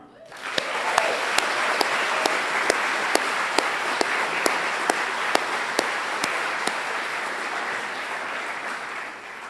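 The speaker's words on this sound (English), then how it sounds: "we'll give a round of applause to the Wolf House techs who are putting on the show today, Oiart grad Jessica Wisniewski, Ben Rudland," A graduation audience at a 2024 audio school ceremony breaks into a steady round of applause, dense clapping sustained for nearly ten seconds at even loudness, with a few sharper individual claps standing out.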